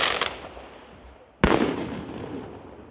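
A Polenböller firecracker, the old TXB 010 from Tropic or Triplex, goes off outdoors: a sharp blast cut off at the very start, then a second loud, close bang with a long rumbling echo fading afterward.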